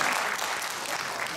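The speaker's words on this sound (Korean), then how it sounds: "박수 한번 쳐주세요." Church congregation applauding during a Sunday worship service, steady dense clapping from a room full of people, loud and continuous throughout with no talk over it.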